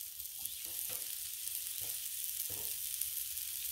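Slugburger patties made with breadcrumbs fry on a Blackstone griddle, a steady broadband sizzle holding at even loudness throughout, with a few faint scrapes or pops underneath and no voices.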